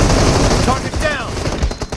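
Rapid automatic gunfire from the video game PUBG in a team deathmatch, a dense burst of loud, closely spaced shots with a few ricochet-like chirps through the middle.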